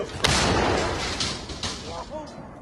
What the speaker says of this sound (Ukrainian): Гармата постріл! Постріл! Постріл!